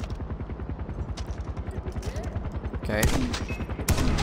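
Rapid mounted-gun fire in the first-person shooter Far Cry 4 hammers out in a steady, fast rhythm, growing louder with heavier blasts near the end, while a voice speaks briefly over the shooting.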